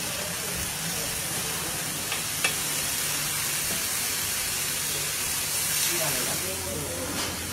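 Fish frying in coconut oil in a Mangalore kitchen, a constant loud hiss and sizzle of hot oil, with faint background voices and occasional small clinks.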